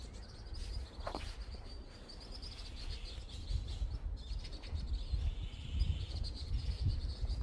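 Faint wild birds chirping and calling at a distance over a low outdoor rumble, with insects buzzing softly in the background.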